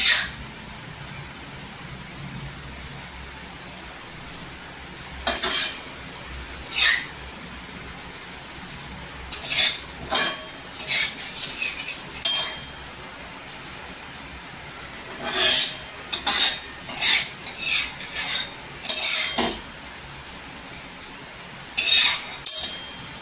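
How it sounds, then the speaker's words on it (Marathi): Tomato and green chilli thecha being spooned from a pan onto a plate, sharp irregular clinks and scrapes of a metal spoon against cookware in separate bursts over a quiet background. "इथे आपण प्लेटमध्ये ठेचा काढून घ्यायचा"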